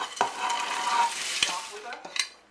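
A melted White Christmas slice mixture being stirred quickly in a bowl, heard as close scraping and rustling with a few sharp knocks against the side, with no voices.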